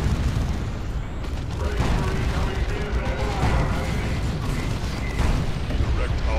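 Gunfire and explosions in a Dawn of War 2 strategy battle, a dense, continuous wall of shooting and booms lasting throughout, loud and close, with the player talking over it.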